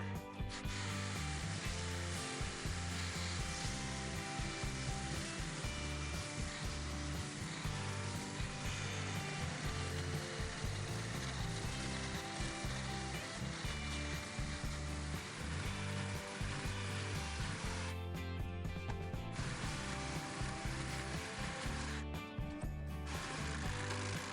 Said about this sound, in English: I'm going to use my reciprocating saw to try to take some of this off.